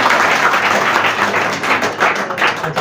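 An audience claps steadily to welcome a student at an after-intermediate career guidance event, a dense, loud, continuous applause with no speech over it.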